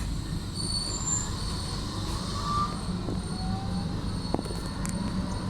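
A Blackpool tram rolls along the sea front, a steady close rumble of wheels on rails with high squeals and faint scattered clicks running throughout, no voices over it.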